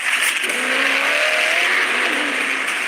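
Supercar with a twin-turbocharged V8 accelerating hard, its engine note rising in pitch as it revs up, then easing and climbing again under a steady wash of broadband road and wind roar, loud and close throughout.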